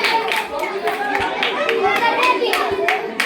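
A small group claps for Vardhaman, a steady patter of hand claps lasting a few seconds, close and fairly loud, with children's voices chattering underneath.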